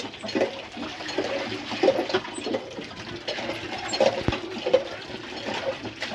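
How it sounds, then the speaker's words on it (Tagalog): A hand water pump worked for laundry water, with water gushing and splashing close by in irregular surges and occasional clanks, and no voices. "May tubig na dito. Magbubumabumba ka ng ganyan."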